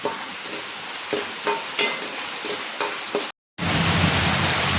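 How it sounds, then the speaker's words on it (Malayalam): Steady crackling sizzle of peanuts frying in hot ghee, with periodic louder stirring bursts, a brief dropout, then the sizzle returns stronger and denser. "നമുക്കൊന്ന് വറുത്തെടുക്കാം"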